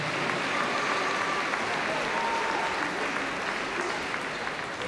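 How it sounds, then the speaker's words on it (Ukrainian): Audience at a Ukrainian cinema event applauding enthusiastically to welcome a volunteer speaker, a dense, loud, continuous clapping that holds steady throughout. "І хотіла запросити його до слова під ваші шалені оплески."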